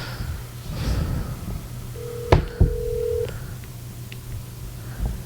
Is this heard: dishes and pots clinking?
no